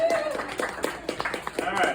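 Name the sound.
audience giving a round of applause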